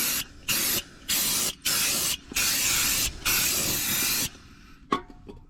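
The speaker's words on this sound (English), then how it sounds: "First of all, going to get a clean with some brake cleaner." Brake cleaner sprayed from an aerosol can onto the flywheel area of a Nissan 300ZX Twin Turbo engine. There are five close, loud hissing bursts with short gaps between them, followed by a couple of faint clinks.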